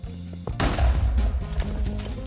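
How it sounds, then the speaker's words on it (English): A powered Gregtech machine in Minecraft blows up when broken with a pickaxe, one sudden loud blast following a low hum and then fading into a rumbling tail. "The whole thing just blows up."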